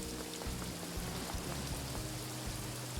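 Steady rain falling in the video game Paradise Killer, a dense even hiss of drops on surfaces with no pauses, heard alone at moderate loudness.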